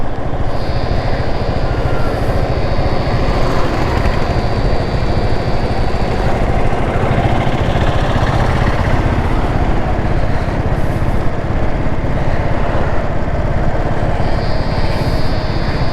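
A restored Royal Enfield Bullet 350 BS3 motorcycle engine runs loudly and continuously, a dense, steady drone close to the microphone with no pauses and no talking.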